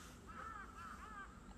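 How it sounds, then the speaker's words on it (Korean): A crow caws outside, several hoarse calls in a short run, faint and distant against a low background hum. "까마귀 소리. 맞아요, 까마귀 소리."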